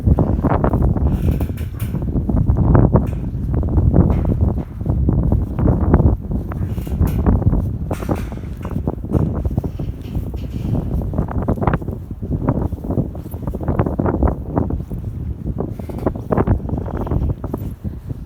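Wind gusts hard across a snowy winter yard, buffeting the microphone with a loud, continuous low roar that rises and falls in rough surges.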